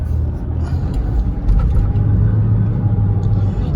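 A Porsche Boxster 986 in automatic mode pulls away from a stop sign, its engine a steady low rumble heard from inside the car, rising slightly as it accelerates, with no talking.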